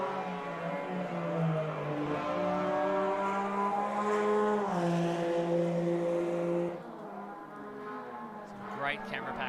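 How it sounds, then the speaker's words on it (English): GT3 race cars, including a Porsche, in the Automobilista 2 racing game howl around a Silverstone-style circuit, with sustained rising and falling engine tones and gear changes, and a commentator talks over the engines before they fade near the end. "Absolutely stunning watching these cars get around as Oliver brings the Porsche all the way around the long right-hand club up the hill towards Abbey"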